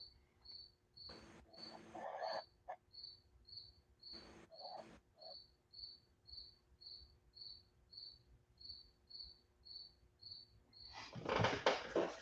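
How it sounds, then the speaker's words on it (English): A cricket chirps steadily in short, evenly spaced high pulses for the whole stretch, fairly loud and near, with a few bursts of noise in between and a louder rustle at the end. "That I heard your cricket. Silly cricket."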